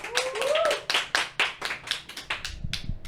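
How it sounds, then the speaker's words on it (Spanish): A studio audience gives a short burst of applause to see off a departing guest on a faith-themed talk show, sharp separate claps rising and then thinning over a few seconds, with a brief tone near the start. "lo despedimos con un fuerte aplauso"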